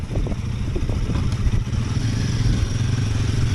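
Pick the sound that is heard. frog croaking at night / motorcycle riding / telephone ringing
motorcycle riding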